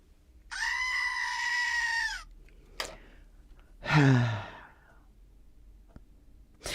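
A goat lets out one long, loud, wavering scream lasting nearly two seconds, followed by a short sharp cry and a breathy, sigh-like bleat, with quiet pauses between them.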